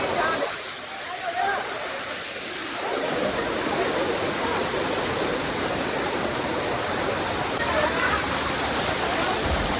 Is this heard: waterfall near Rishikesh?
yes